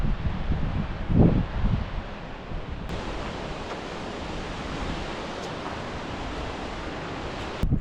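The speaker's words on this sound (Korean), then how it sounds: "폭포가 한 번 더 있었네요." Steady broadband rush of a waterfall near a high mountain lake at about 3580 m in Kyrgyzstan, loud and continuous throughout with a brief thump early on.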